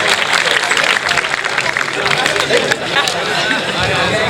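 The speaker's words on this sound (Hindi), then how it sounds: "एक बार जोरदार तालियां नाथूलाल निडर जी के सम्मान में बजा दें" An audience at a Hindi poetry recital applauds in honour of the poet Nathulal Nidar, a loud, dense burst of clapping mixed with crowd noise and murmuring that carries on for several seconds.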